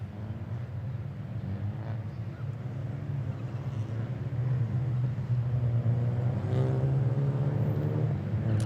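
Renault Clio Cup race cars roll toward the starting grid at Misano, their engines a steady, low rumble that swells louder about halfway through.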